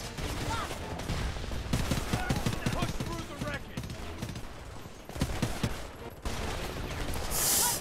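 Gunfire rattles through the war shooter Homefront in dense, rapid bursts of automatic fire with sharp individual cracks, nearly continuous, while a voice talks over parts of it.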